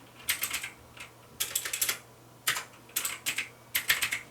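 Fingers type a search term on a computer keyboard in quick clusters of close, crisp keystrokes, several short bursts separated by brief pauses, with no voices.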